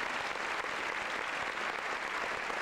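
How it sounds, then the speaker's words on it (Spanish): Applause for marimba ensemble musicians in the grand hall of the National Theatre, a full, even roar of many hands clapping that stays steady throughout, distant-sounding and without talk. "aplauso más nutrido, por favor, para los maestros"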